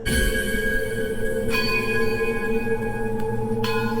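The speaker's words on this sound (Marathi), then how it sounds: "मंदिरातील सगळ्या घंटा एकाच वेळी खणाणल्या" Several temple bells ring together, their bright tones overlapping and sustaining in a dense, continuous wash, with new strikes joining partway through.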